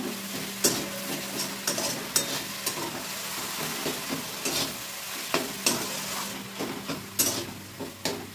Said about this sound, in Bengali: চিনির সঙ্গে আমি ভাজা ভাজা করে নেব।